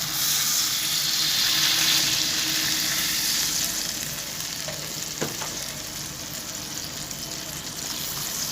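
Spice paste, fried until the oil separates, sizzles loudly and steadily in a pan after water is poured in for an egg curry with cauliflower and potato, a continuous close hiss with a brief clink partway through.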